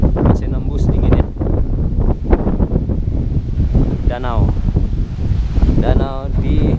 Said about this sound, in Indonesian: Anginnya masih saja kencang nih teman-teman.